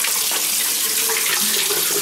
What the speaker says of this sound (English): I have that in a 5-gallon bucket that is currently filling up